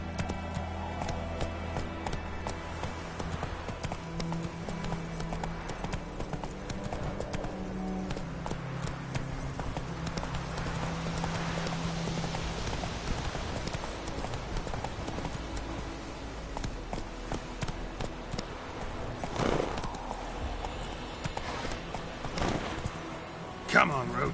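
Horse Roach gallops in Witcher 3, a steady run of clip-clop hoofbeats under game music and ambience throughout, with someone talking over it at times.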